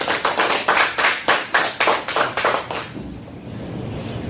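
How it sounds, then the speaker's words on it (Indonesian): Classroom group clapping in unison during a microteaching session, about ten sharp, evenly spaced claps in a quick rhythm, then stopping abruptly and leaving quiet room noise. "Oke, beri tepuk tangan untuk kelompok."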